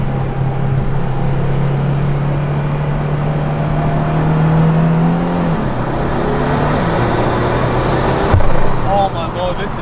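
A twin-turbocharged Datsun 240Z accelerates while driving, its engine note climbing through rising pitch sweeps and shifting with a gear change, loud and close inside the car, with a brief sharp burst near the end.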